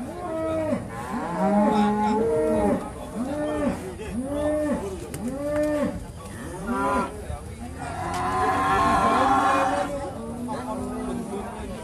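Large Pegon cattle at a livestock weighing, with repeated loud nearby moos in a steady series, rising and falling, while a crowd chatters in the background.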